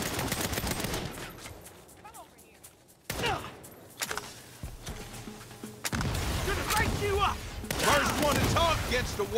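Gunfire in the video game Saints Row, rapid bursts and single shots over layered game noise, with voices talking during the shooting.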